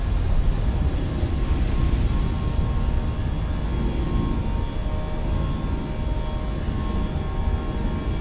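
Steady broadband roar of an Air New Zealand airliner climbing out just after takeoff in Microsoft Flight Simulator 2024 as the landing gear retracts, a continuous loud engine and airflow wash with no distinct separate gear clunk standing out.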